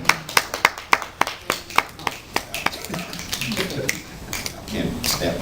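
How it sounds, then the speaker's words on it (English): Fingers snap in a quick, uneven run of sharp, close clicks over the first three seconds. The snaps then give way to murmuring voices and room noise from a group gathering. "I can't snap my fingers."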